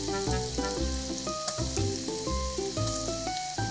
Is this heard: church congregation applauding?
no